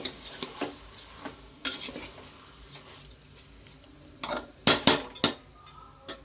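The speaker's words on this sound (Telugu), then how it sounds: "ఇప్పుడు ఈ రైస్ ఇందులో కలిసేలాగా మనం దీన్ని మిక్స్ చేసుకోవాలి." A spoon stirs rice into a vegetable biryani mixture in a metal pot, making irregular scraping clinks that grow louder and denser toward the end, close and alone.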